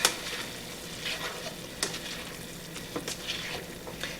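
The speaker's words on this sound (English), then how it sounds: "Stir it up." Spiced potatoes frying in a pan as they are stirred, with a steady sizzle broken by scraping stir strokes and a few sharper clinks of the utensil against the pan.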